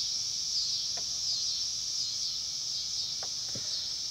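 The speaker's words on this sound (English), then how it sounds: "the noise of the bugs" Insects chirp steadily outdoors, a continuous high-pitched buzzing drone with no voices and a few faint clicks mixed in.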